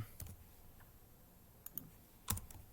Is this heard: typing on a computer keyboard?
yes